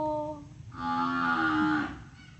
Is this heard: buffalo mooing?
yes